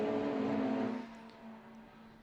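Honda Civic and Integra race cars on a track at a Hondacup race in New Zealand: one engine howls loudly past, then fades quickly into a fainter, distant drone.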